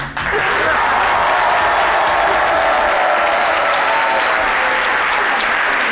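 A television talk show studio audience bursts into loud, dense applause that starts abruptly and holds steady to the end, with a faint voice underneath.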